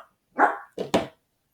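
A dog barks about three times in a quick cluster, a single bark followed by a close double, fairly near but modest in level in an otherwise quiet room.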